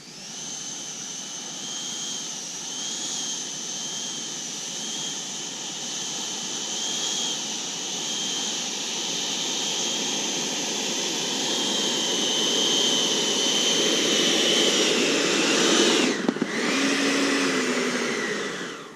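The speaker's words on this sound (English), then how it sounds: "I'll taxi this back, actually." Twin 80mm electric ducted fans on a Freewing MiG-29 Fulcrum RC jet whine steadily and close while taxiing, with a bright high tone that holds for the whole stretch, swells slightly louder and dips briefly near the end.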